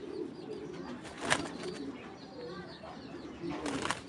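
Pigeons from the 2024 generation at the BrPFC club loft coo in soft, rolling calls, close by and repeated, with faint wing and loft noise in the background.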